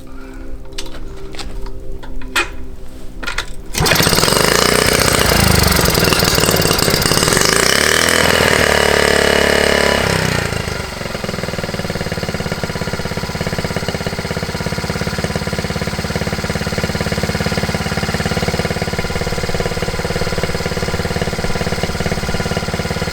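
A Honda T50 motorcycle engine runs steadily at idle after sitting for about ten years, a loud, continuous mechanical drone close by, following a few brief knocks at the start.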